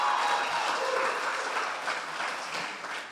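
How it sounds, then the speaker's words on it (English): Audience applause at a Memphis mastermind event, a steady wash of clapping from a crowd that holds for a few seconds and tapers slightly, heard alone without talk. "How about a round of applause for Trey and Corey for putting this event on?"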